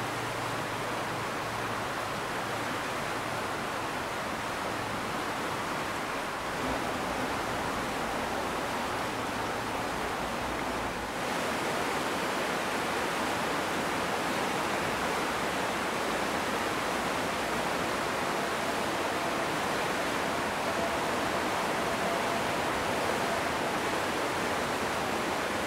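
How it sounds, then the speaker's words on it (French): Rushing water of the Rhône river in Valais, a steady broadband roar that fills the whole stretch, constant and unbroken like a nearby torrent, with no voices. "c'est certainement un des rares endroits en Valais où on perçoit le bruit du Rhône"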